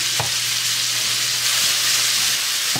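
Sirloin beef sears loudly in a pan, a steady broad sizzle with faint scraping stirs, building fond for beef stroganoff; no voices.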